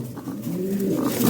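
Lahori Sirazi pigeons cooing softly at close range, a low steady murmur that swells slightly toward the end with no talk over it.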